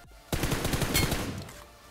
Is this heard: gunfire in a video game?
yes